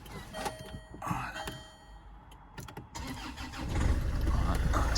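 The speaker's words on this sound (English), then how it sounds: "I'm just going to start the engine" A Land Rover Freelander 2 engine cranks with a few sharp clicks and catches, then settles into a steady, loud idle rumble close by, with no speech.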